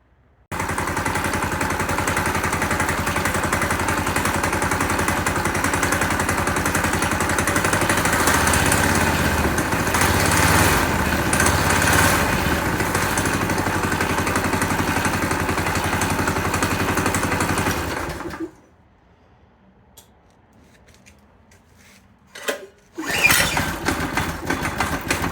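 A Heald Supertrike SST engine fires up and runs loud and steady for roughly eighteen seconds, then cuts out to near silence before restarting briefly with a sharp burst and running again.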